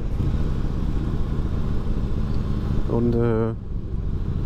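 A Harley-Davidson motorcycle engine rumbles steadily at low pitch, loud and close throughout while someone talks over it, with a brief rising rev near the end.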